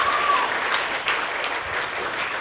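An audience claps steadily, a dense wash of many hands applauding at moderate distance, continuing throughout.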